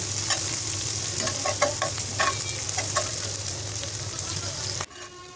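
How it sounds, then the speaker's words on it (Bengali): Whole spices, a piece of cinnamon, cardamom pods, black pepper and cloves, fry in hot oil with a steady, close sizzle and faint stirring scrapes, until the sound cuts off abruptly near the end. "এগুলো একটু ভালো করে ভেজে নিচ্ছি একটু হালকা গোল্ডেন ব্রাউন করে ভেজে নিচ্ছি"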